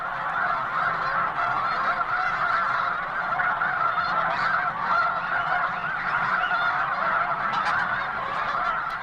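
Large flock of flightless snow, blue and Canada geese honking continuously on a river during a roundup of about 5,000 birds, a dense, loud, steady chorus of overlapping calls throughout.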